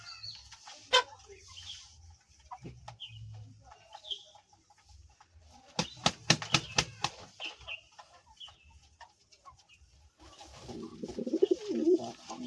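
Fancy pigeons coo softly at close range in scattered bursts, joined near the middle by a quick run of sharp wing claps or taps and by denser cooing toward the end.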